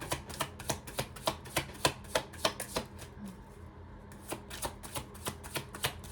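Tarot cards are shuffled in quick, rhythmic riffles, a steady run of crisp flutters up close with a brief pause midway.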